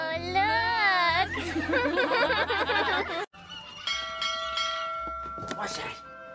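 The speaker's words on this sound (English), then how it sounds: "Well, we all know what three bells means!" Three bells ring in a SpongeBob cartoon, their sustained metallic tones sounding after a stretch of animated cartoon voices, with faint chatter underneath.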